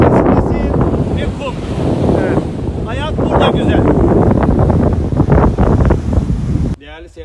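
Strong wind blowing on the sandy shore at Kumkent beach near Biga, Çanakkale, with a constant loud roar and buffeting on the microphone over the wash of the sea, while someone speaks in the foreground.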